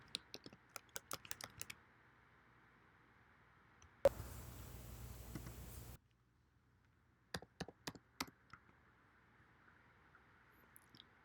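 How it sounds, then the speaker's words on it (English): Someone types a license number on a computer keyboard in quick runs of crisp, close key clicks, with a short burst of broadband noise in the middle and then more keystrokes. "you're going to type in the license number."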